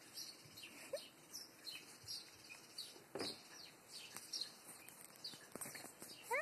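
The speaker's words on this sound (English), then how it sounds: "Oh, you want to look at the birds?" Small birds chirp in a series of short, high tweets scattered across a quiet background, faint to moderate and fairly close, with no talking.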